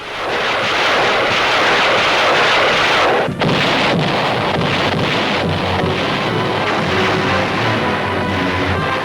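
Heavy WWII naval and artillery bombardment of Okinawa in old newsreel sound, a dense, continuous roar of booming fire with wind-like rumble throughout and one brief dip partway.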